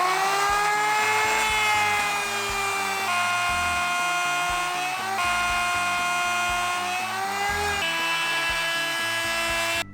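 A router cuts a shallow rabbet along the edge of a Corian solid surface countertop for a no-drip edge, a loud steady high-pitched whine with shifting tone running continuously and close up.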